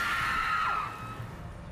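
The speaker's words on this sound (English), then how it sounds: "have they fixed the screaming of the ghosts?" A ghost's loud wailing scream in the survival game Enshrouded, a high sustained shriek that bends downward and fades over background ambience.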